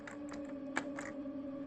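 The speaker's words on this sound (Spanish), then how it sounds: "solo tenemos que presionar Alt más 64 en nuestro teclado." A few light keypresses on a computer keyboard, entering Alt plus 64 to produce the at sign, as soft scattered clicks over a steady electrical hum.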